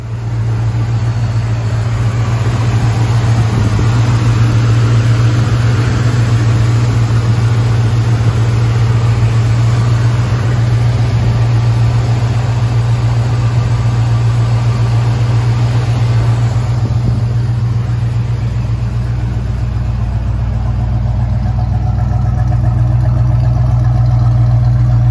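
A 1974 Pontiac Firebird Formula Ram Air out on the road, its V8 droning loud and close from inside the car with a steady low rumble, engine note shifting slightly as it drives.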